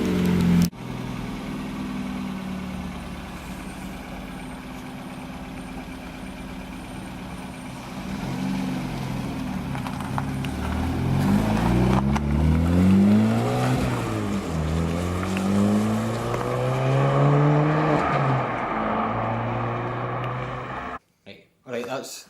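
A Ford Fiesta Mk6 engine idles through a newly fitted 2-inch stainless steel exhaust, a steady low rumble that swells with several revs around the middle before settling, close by, then cuts off near the end.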